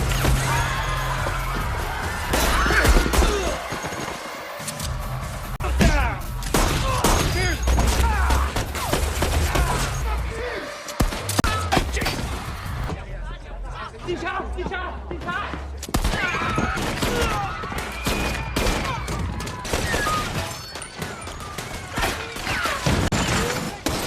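Sustained bursts of gunfire and crashing impacts fill a film fight scene as trained agents, surrounded by enemy troops, shoot it out with Chinese mafia forces in a guarded club, with dense dramatic mixing and voices throughout.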